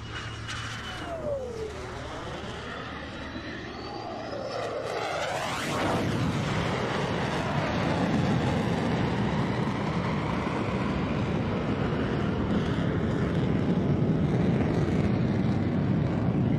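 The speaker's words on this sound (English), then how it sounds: "Here comes the Raptor again from the right with a tactical pitch." An F-22 Raptor jet at the Sun 'n Fun air show approaching and roaring past in a tactical pitch, a sweeping Doppler whine building into a loud, broad, sustained jet roar that lingers after the pass.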